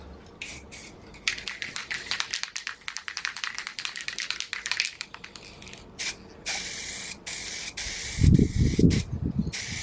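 Bursts of aerosol spray paint hiss in short and longer blasts onto MDF, close by in windy conditions, with a few taps and a low thump near the end.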